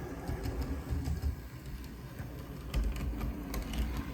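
An HO scale model train runs over a newly laid turnout on a home layout, giving off close, busy clicking and clattering with a steady rolling rumble underneath, a little chunky and uneven.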